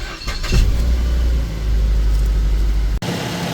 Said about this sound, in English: Now that the engine's running